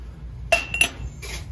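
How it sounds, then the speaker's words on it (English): Stackable ceramic mugs from a thrift store shelf clink together briefly as they are handled, two or three close, bright chinks in a quiet shop. "These are the stackable mugs."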